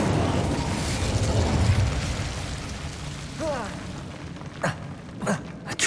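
A fire spell cast in the Hogwarts Legacy video game: a dense, sustained roar with a couple of sharp whooshing bursts near the end, heard up close and loud throughout.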